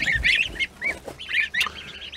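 Geese honk repeatedly nearby, several overlapping calls in quick irregular bursts, fairly loud with no talking.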